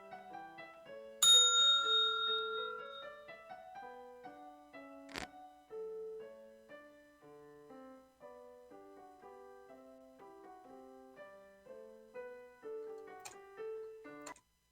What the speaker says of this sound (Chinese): 铃声。